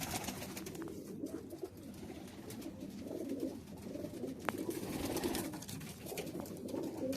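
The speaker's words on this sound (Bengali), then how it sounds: "कबूतर का राजा पंजाबी कबूतर है" Pakistani high flyer pigeons cooing in a loft in Kuwait, a dense, continuous chorus of low overlapping coos and soft wing rustles close by, with no talk.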